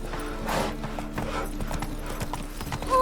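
Horse hooves clip-clopping in a steady rhythm while riding in The Witcher 3 video game, close and clear over a low ambient bed, with a brief whinny-like tone at the end.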